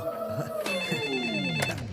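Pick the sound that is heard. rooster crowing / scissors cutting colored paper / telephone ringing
telephone ringing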